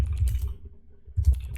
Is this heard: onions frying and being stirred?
no